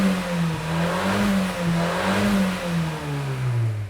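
A Fiat Pulse Abarth engine in Poison mode revs in neutral, its deep growl rising and falling in several swells, loud and close, with no voices over it.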